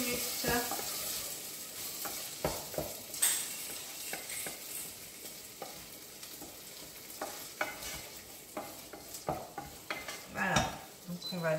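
A mixture of spices, rosemary and chili simmering and sizzling gently in a pan for a white almond gazpacho, with a steady soft hiss and occasional stirring clinks and scrapes, no talk.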